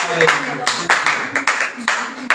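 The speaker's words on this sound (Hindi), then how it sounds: "सब जन तालियों के साथ पवित्र आत्मा की स्तुति करते हैं।" A congregation claps in praise during a Hindi-language Christian worship service, with a handful of loud, uneven claps spread through the moment over a steady background of voices.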